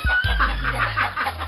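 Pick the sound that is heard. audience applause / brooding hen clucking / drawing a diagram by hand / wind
brooding hen clucking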